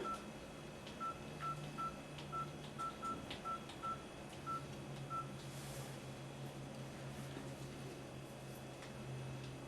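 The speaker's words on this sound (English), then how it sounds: "I just dial in the number." A Sonim Land Rover S1 rugged phone gives off a quick run of short, evenly pitched keypad dial tones as a number is entered, close and clear over a quiet background hum.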